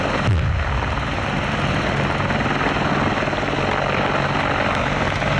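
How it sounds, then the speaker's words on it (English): A British Army Apache attack helicopter's dense, steady rotor and engine roar at an airshow display, loud and close, holding continuously with no pauses. "the British Army Apache attack helicopter"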